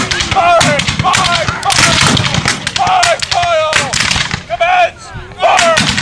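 Civil War reenactors fire musket volleys, a string of loud, sharp blasts with echoing booms one after another, each followed by brief rumble, with shouted voices mixed in.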